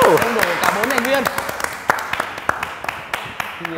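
A small group of friends clap together at a casual meetup, rapid irregular hand claps running through the whole moment beneath overlapping talk and laughter.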